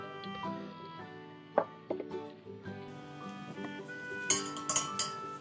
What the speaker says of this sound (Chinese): 再加入冷的食用水200克拌匀